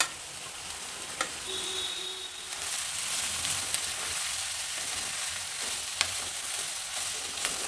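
Mixed vegetables for veg fried rice sizzle and crackle steadily in a hot pan, a loud continuous frying hiss with occasional stirring clinks and scrapes, no voices.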